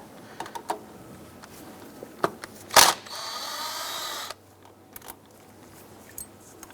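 A 10mm socket on a ratchet loosening the serpentine belt bracket bolt on a 2005-2009 Subaru Outback, close sharp clicks, a burst of metallic rattling, then a brief whirring run, with scattered tool taps around it.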